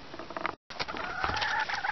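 Chickens peck and scratch at a homemade automatic feeder built from recycled junk, a busy patter of tapping and rustling with soft clucks, close by, with a brief dropout partway through.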